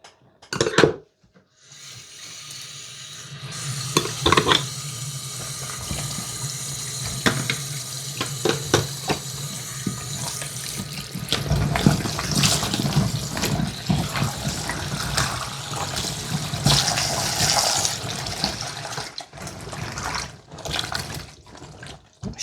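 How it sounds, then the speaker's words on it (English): Tap water runs into a kitchen sink for rinsing, splashing and gurgling steadily nearby, with dishes and cutlery clinking intermittently in the basin. "let's empty this water and get some rinsing water on the go"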